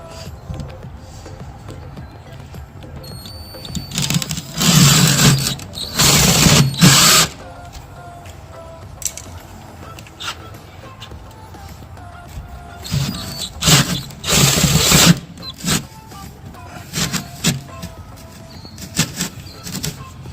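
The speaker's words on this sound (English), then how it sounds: "we've got a 5/8 inch drill bit. It's a pretty big hole to drill in the boat." A cordless drill with a 5/8 inch bit bores into a boat hull, heard as several whirring bursts of a few seconds each with pauses between, close and fairly loud.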